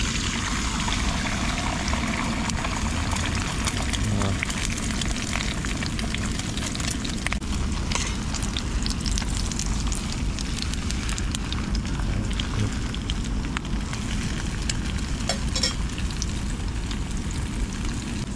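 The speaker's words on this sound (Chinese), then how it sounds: "油温差不多了，加入鸡蛋。" Eggs hitting hot oil in a wok give a steady, loud, broadband hiss and crackle that fills the whole span without a break, with no voices over it.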